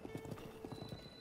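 In the video game Breath of the Wild, a horse's hooves clip-clop in a steady, even rhythm, faint and distant, under a soft continuous game backdrop.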